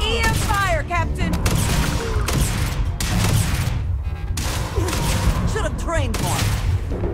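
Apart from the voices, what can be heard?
EM rifle gunfire in the video game Starfield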